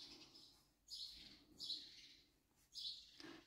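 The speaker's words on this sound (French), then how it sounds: "Je ne sais pas si vous entendez les oiseaux à ma fenêtre." Small birds chirp outside a window in a quiet room, three or four faint, high tweeting bursts spaced irregularly over a soft background hush, with no voices.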